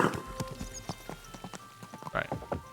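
A horse's hooves clip-clop at a steady walking pace in Kingdom Come: Deliverance II, close and moderately loud, with a brief soft snort partway through.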